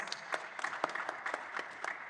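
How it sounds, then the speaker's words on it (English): A panel audience applauds as a new panelist joins a hub solutions and sustainability session at an AfriLabs event; quiet, steady clapping from a modest crowd, with individual claps audible throughout. "Please, can we give her a round of applause as she joins us?"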